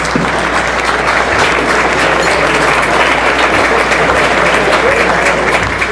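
Sustained applause from an awards dinner audience fills the room, a dense steady wash of clapping with crowd noise, loud and continuous throughout.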